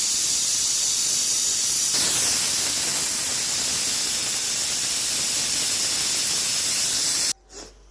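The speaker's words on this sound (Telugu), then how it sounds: "తొమ్మిది విజిల్ అయిపోయిందండి." A pressure cooker holding goat trotter paya releases steam in one loud, unbroken hiss that lasts about seven seconds and then cuts off abruptly into near silence.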